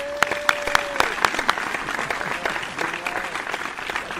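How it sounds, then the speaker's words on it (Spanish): Applause from a talk-show studio audience greeting a music star, with distinct sharp claps and a live voice sustaining sung or drawn-out tones beneath the clapping. "un aplauso"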